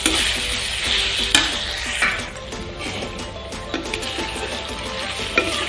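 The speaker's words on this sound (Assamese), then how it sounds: "দি মই আকৌ ভালদৰে লৰাই এনেকৈ মিক্স কৰি লৈছোঁ।" Food fried with packet spice powder is stirred and mixed in a pan, giving a steady close sizzle with repeated scraping strokes of a utensil and a few sharp knocks against the pan, with no voices.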